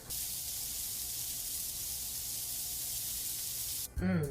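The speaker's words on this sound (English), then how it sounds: "Let's just hear that sizzle again" Steady, loud sizzling hiss of food frying on a hot mini griddle, continuous throughout, then a short sharp sound cuts in at the very end.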